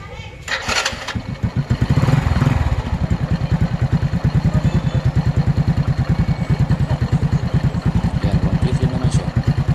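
A Euro Sport-R 125 motorcycle engine with NGK spark plugs cranks and sputters to life, briefly revs, then settles into a steady, rhythmic idle putter close by.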